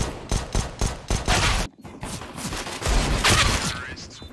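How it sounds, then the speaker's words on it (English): Repeated close pistol shots from Berettas in a CS:GO match, a quick series of sharp cracks in a steady cadence, a brief pause, then more shots mixed with game noise and a voice talking. "This man's just firing at the Berettas around the corner"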